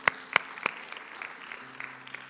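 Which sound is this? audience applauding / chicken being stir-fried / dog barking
audience applauding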